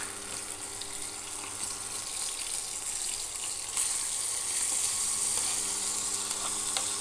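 Onion, tomato and ginger sizzle steadily in hot oil in a pan, a continuous bright crackling hiss that swells a little louder midway through.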